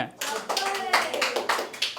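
Audience clapping at a Kannada film event, a dense, sustained patter of many hands in a hall, steady and fairly loud with surges and no clear talk over it.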